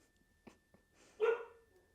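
A dog lets out one sharp, fairly loud bark after a few soft thumps and faint shuffling in a quiet indoor room where a yoga session is under way.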